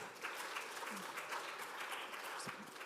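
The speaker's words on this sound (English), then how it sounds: "A round of applause for that." Faint applause from a crowd, steady clapping heard from a distance with a few murmuring voices mixed in.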